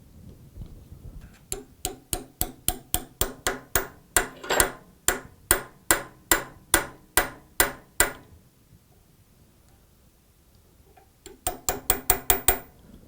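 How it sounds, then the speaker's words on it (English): Steel taps as a spring is driven down onto the spindle of an L.C. Smith shotgun: a long run of sharp, evenly spaced strikes, then a pause, then a quicker closing flurry, close and distinct. "The spring is just located on the spindle, and I'm going to tap it down."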